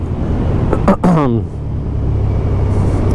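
Suzuki SV650 motorcycle on a test ride, its engine and road rumble steady and loud throughout, with a brief rising voice-like sweep near the start and a dip in level after.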